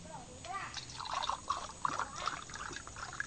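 Coconut water from fresh buko trickles and pours into a glass in a rural provincial home, a soft, faint dribbling with small splashes, heard close and quiet.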